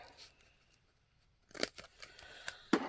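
Scissors snipping through fabric pocket pieces, a few short crisp cuts close by after a near-silent stretch, with no talking.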